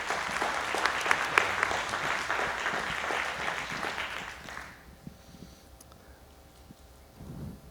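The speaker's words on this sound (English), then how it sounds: "Give yourself a hand clap." Audience at a 2022 Zachary candidate forum claps for several seconds, then the applause thins out and fades into quiet room noise with faint stray sounds.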